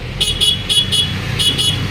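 A stock vehicle horn sounds in about six short, loud beeps, four in quick succession and then two more after a brief pause, over a low engine idle.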